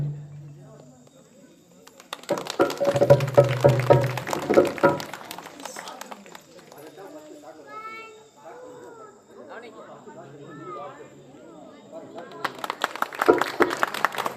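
An audience claps and cheers for a village Valli Kummi folk dance troupe in Arasappanur, with a loud burst of applause early on and another near the end, and quieter crowd noise and voices in between.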